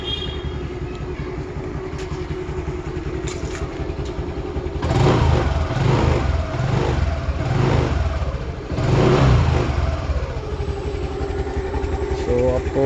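Five-year-old, recently serviced TVS Jupiter scooter engine running close by, with a steady idle that rises in two louder revving bursts before settling back; no talk over it.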